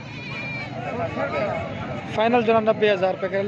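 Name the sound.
goat bleating at a livestock market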